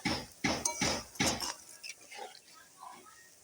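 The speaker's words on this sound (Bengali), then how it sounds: "আমি এখন ঢাকাটা দিয়ে দিই" Metal lid set onto a cooking pot over a brick stove, four sharp close clinks and clatters in quick succession, then a few faint soft knocks.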